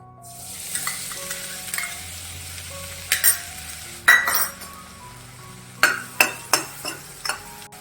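About two spoons of finely chopped garlic fry in reused oil for restaurant-style cabbage Manchurian, with a light steady sizzle, a few sharp stirring scrapes, and a burst of quick metallic clinks toward the end.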